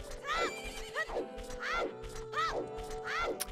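A horse whinnies three times in quick succession in The Legend of Zelda: Ocarina of Time, each call a rising then falling squeal over faint steady background tones.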